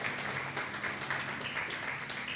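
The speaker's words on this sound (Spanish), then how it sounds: "Demos un aplauso a Jesús." Congregation applauding during a Spanish-language church service, a steady, dense wash of many hands clapping that fills the space continuously without a break.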